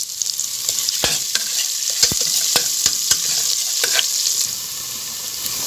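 Onions frying golden brown in hot cooking oil in a pan, a loud, continuous close-up sizzle with a few sharp clicks and spatters scattered through it and no voices.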